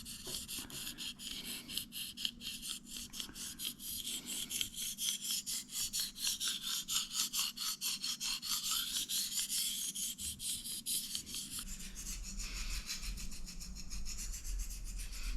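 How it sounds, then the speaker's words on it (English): A knife blade drawn in steady, rhythmic rasping strokes across a fine Arkansas oil honing stone, close and clear with no talking. "Arkansas honing stone here. Hold it against the flat part of the blade"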